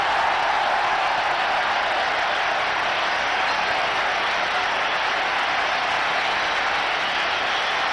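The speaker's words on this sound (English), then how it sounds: "Listen to the crowd." Cricket stadium crowd in Kolkata roaring for Sachin Tendulkar's boundary at the 1996 World Cup semi-final, a continuous loud wash of cheering and noise from a huge crowd.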